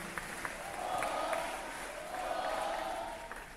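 Audience applause at a Veterans Day school assembly honoring veterans and their families, a moderate, steady patter of clapping from a seated crowd that swells and eases over a few seconds.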